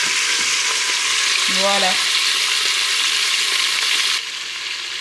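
Beef browning in hot oil and butter, a loud dense sizzle close by that drops slightly toward the end; a brief spoken word and a short tonal clink occur over it.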